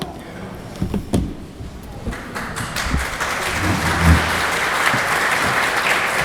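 A room of people breaks into applause, a few scattered claps at first swelling into steady, sustained clapping.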